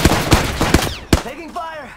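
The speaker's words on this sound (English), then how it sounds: "Taking fire!" Gunfire in the Apex Legends video game: four sharp, loud shots in quick succession, followed by ringing, whining ricochet tones as the last shot fades.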